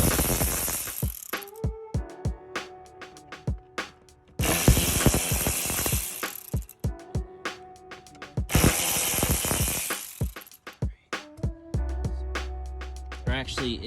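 A ratchet removes Torx bolts from the blower motor area of a 2011-2018 Porsche Cayenne Turbo, close rapid clicking bursts repeated several times between pauses, with someone talking throughout.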